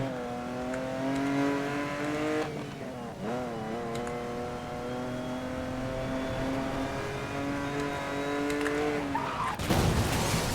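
Cars racing in the video game Need for Speed: Most Wanted (2012), a loud sustained engine drone that rises and dips with revving, ending in a harsh noisy burst like a crash.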